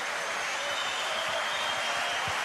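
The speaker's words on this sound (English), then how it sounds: "And listen to the ovation. The crowd loved that." A snooker crowd applauds steadily after Judd Trump wins a European Masters semi-final, with dense, even clapping sustained throughout the clip.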